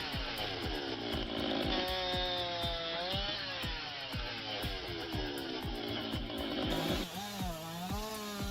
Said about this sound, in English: the operator slices through the thick base of an old-growth trunk using a high-powered